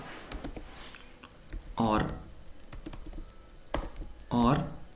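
Typing code on a computer keyboard: quick clusters of light key clicks in short bursts, close by, interleaved with someone speaking in Hindi.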